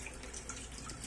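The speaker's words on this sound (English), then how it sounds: "I'll throw this water and I'll wash this in cold water." Cold tap water runs steadily into a sink as raw pork is rinsed for a smoked pork dish, a continuous close splashing wash with no talking.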